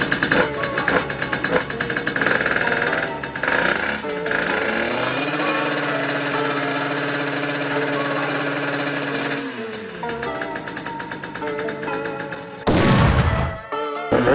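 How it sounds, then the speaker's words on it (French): Beta 80 motorcycle two-stroke engine running after clutch work, a loud buzzing idle that rises and holds in revs, then drops back, with a voice briefly heard near the end. "Puis on va démarrer, on va faire tourner la moteur."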